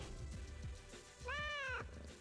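A cat meows once, clear and nasal, in the GameCube game TimeSplitters: Future Perfect, over busy game background sounds and soft thuds.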